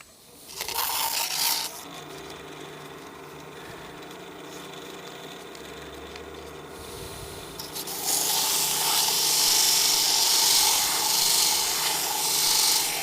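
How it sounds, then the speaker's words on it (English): A glass whiskey tumbler turning on a lathe is sanded, producing a steady rubbing hiss that grows louder and brighter in the second half, with no voices. "And sand this a little bit more."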